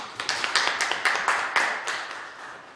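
An audience of church leaders clapping at an agreement-signing ceremony in a hall, a brisk run of about a dozen distinct, fairly close claps in a loose rhythm, fading slightly toward the end.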